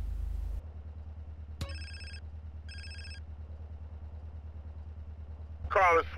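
A mobile phone rings in GTA San Andreas: two short bursts of a high, pulsing electronic ring, heard over a low steady engine idle, with a brief burst of other noise near the end.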